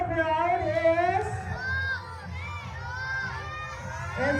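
A crowd at a barangay fiesta award ceremony shouts and cheers for a contestant's number, with excited children's voices and loud overlapping chatter throughout.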